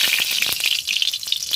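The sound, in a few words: hot oil sizzling and spitting in a pan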